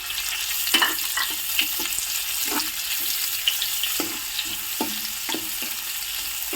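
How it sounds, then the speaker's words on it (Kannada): Onions sizzle in a pan with green chilies and curry leaves, a continuous frying hiss broken by repeated stirring clinks and scrapes, close and moderately loud with no talk. "ಸ್ವಲ್ಪ ಚೆನ್ನಾಗಿ ಫ್ರೈ ಮಾಡಬೇಕು."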